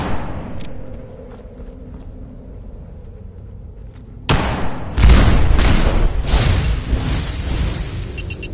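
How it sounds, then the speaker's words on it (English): A sudden loud explosion bursts in after a quieter stretch of low rumble, followed by a second heavy boom and a sustained roaring, crackling aftermath. "Who doesn't love a good explosion?"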